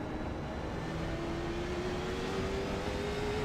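An IROC race car at South Boston Speedway rolls into the pit lane, a dense steady engine roar with a slowly rising whine, loud and continuous, no talk.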